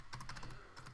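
Short quick run of keystrokes on a computer keyboard, several soft clicks in a brisk burst, then a brief pause and two more taps.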